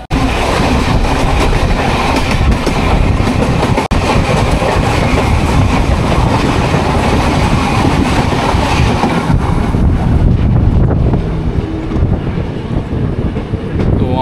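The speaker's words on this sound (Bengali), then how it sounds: "এখন এই বিখ্যাত লালবাড়ির সামনে দিয়ে ট্রেনটা পাস করছে।" A local train out of Sealdah runs at speed, a loud, continuous rumbling roar heard from on board with wind noise and faint rhythmic rattling throughout.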